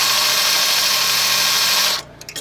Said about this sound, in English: It's drilling pretty easily